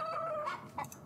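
A short burst of rooster clucking in a video game, a couple of quick bright calls, fairly close and clear with no talking.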